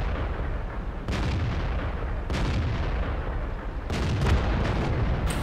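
Enemy gunfire rattles through the tactical shooter The RED: North, with sharp bursts of shots cracking over steady combat noise in several separate volleys, close and loud, with no talking.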